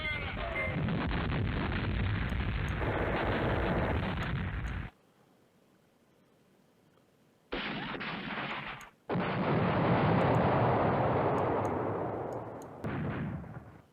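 Heavy artillery barrages in the wargame Command Ops 2, rolling booming roars in long sustained bursts, breaking off into near silence before resuming loud and dense, with no one speaking.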